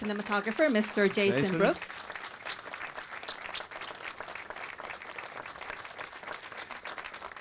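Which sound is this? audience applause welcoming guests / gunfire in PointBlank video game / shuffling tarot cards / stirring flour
audience applause welcoming guests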